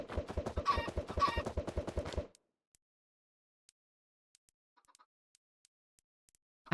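Chickens cluck and squawk in rapid, loud bursts for about two seconds, then fall silent, leaving only faint scattered ticks and a sharp noise at the very end.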